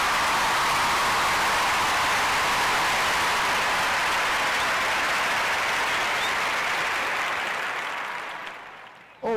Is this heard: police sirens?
no